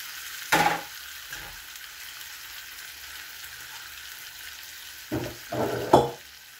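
Chicken lechon paksiw being stirred with vinegar in a pan, a soft steady sizzle running throughout, broken by a few louder scraping stirs near the start and again toward the end.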